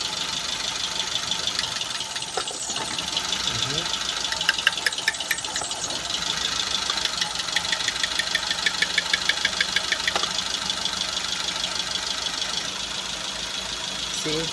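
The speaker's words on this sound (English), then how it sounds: "right now the engine is running smooth" A Nissan B15 car engine idles steadily after an ignition coil replacement for code P1320, giving a continuous near mechanical hum with a faint regular ticking and no pops.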